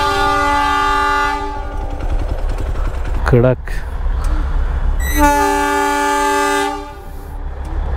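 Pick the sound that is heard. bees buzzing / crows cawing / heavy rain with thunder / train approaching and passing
train approaching and passing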